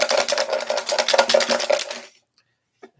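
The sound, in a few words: draw lots being shuffled in a lidded pot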